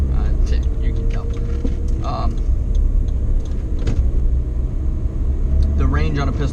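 A car drives along with a steady low rumble heard from inside the cabin, while someone talks continuously over the road noise.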